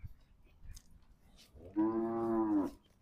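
A single loud, drawn-out Gir cow moo rings out close by for about a second after a quiet stretch of faint rustling.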